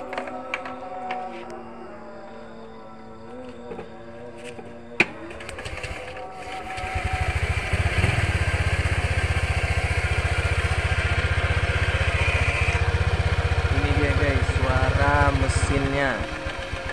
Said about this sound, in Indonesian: kita akan coba menyalakan mesinnya dan mendengar suaranya